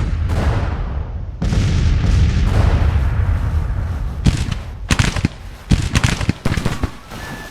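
Artillery in Grand Tactician: The Civil War, during the Battle of Manassas: a long rolling roar of massed cannon gives way to a rapid run of sharp, loud blasts and cracks, some overlapping, with no talking.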